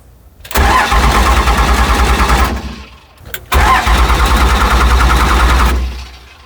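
A 1967 Ford F100 pickup truck's engine cranks and roars in two loud bursts of roughly two seconds each, separated by a brief pause, close to the microphone.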